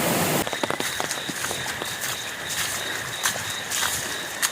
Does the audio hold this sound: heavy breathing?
no